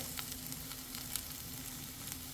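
Chickpeas sizzle in olive oil in a skillet, a steady close crackle with small scattered pops over the whole stretch and no talking.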